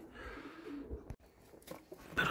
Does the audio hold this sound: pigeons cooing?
yes